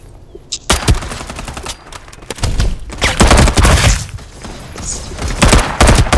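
Gunfire from the video game Farlight 84 comes in loud, close bursts of rapid automatic shots and heavy thuds that follow each other almost without a break.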